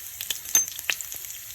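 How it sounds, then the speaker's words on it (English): A pinch of asafoetida drops into hot oil for a tempering over switched-off heat, giving soft crackling sizzle bursts with a few sharper pops, close and quiet, with no talking. "I will turn off the heat and put pinch of asafoetida"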